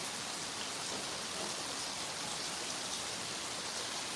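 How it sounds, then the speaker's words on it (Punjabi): Heavy rain pours down on and around a house in a steady, dense hiss that stays loud and even throughout, with no voices. "ਬਹੁਤ ਬਾਰਿਸ਼ ਹੋ ਰਹੀ ਹੈ ਜੀ ਬਹੁਤ ਜ਼ਿਆਦਾ"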